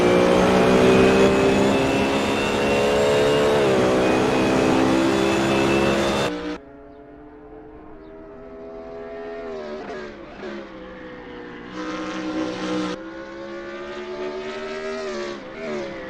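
A BMW Z4 race car in a racing video game, its engine roaring loud and close at first, then dropping to a quieter, rising and falling drone with gear shifts, no voices.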